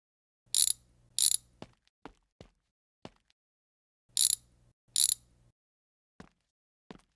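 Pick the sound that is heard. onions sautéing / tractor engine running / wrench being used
wrench being used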